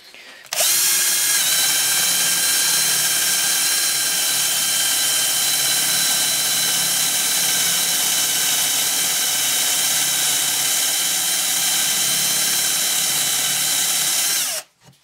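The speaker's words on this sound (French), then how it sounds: "Je vais commencer les tests sur une planche de sapin de 25 mm d'épaisseur avec la mèche de 15 mm de diamètre." A 15 mm Parkside Forstner bit bores into a 25 mm fir board, driven by a drill with a loud, sustained high-pitched whine. The drill runs steadily for about fourteen seconds, close up, then winds down.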